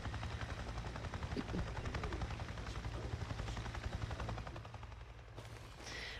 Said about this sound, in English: Ooh, a helicopter.